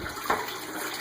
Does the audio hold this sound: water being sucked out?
yes